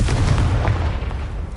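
A Confringo fire spell exploding in Hogwarts Legacy, a loud rumbling blast that fills the short moment and trails off into a low roar.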